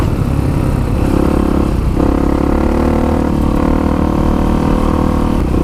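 A 1985 Honda XR350R dirt bike rides at speed across desert terrain, its engine droning steadily and loudly up close with slight rises and dips in revs and rattle from the ride; no talking.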